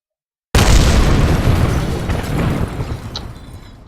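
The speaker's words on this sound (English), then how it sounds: "the solid rocket boosters blew up" Solid rocket boosters exploding in Kerbal Space Program: a sudden loud booming blast that rumbles on and slowly decays over several seconds, heard alone.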